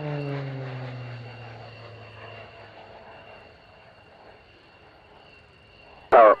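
An airplane flies past at an airshow at RAF Waddington, its engine tone sliding downward as it passes close and then fading into a distant drone, with a sudden loud burst near the end.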